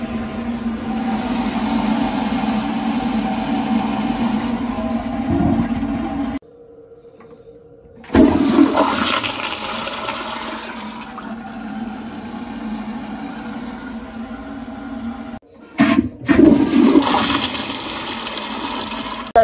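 Sloan Flushmate 503 pressure-assisted vessel flushing inside a Kohler K404 toilet tank: a forceful whooshing flush with a steady hum, then a short silence, followed by two more bursts as the tank refills and cycles, close up.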